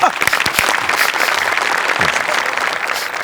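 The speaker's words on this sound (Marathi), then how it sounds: "एकदा जोरदार टाळ्या." Loud audience applause fills a comedy show's book-launch gag, dense continuous clapping with a few sharp individual claps near the start, steady throughout.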